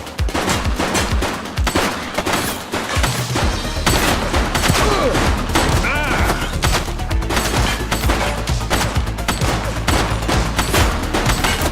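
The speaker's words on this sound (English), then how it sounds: "She's shooting!" Rapid automatic gunfire rattles in dense, loud bursts with booming shots in a police shootout in The Precinct video game, continuing almost without pause.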